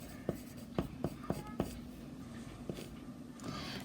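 Pen or pencil strokes writing out a math factoring solution, several soft scratchy taps and strokes close by over a faint background, with a quiet voice present.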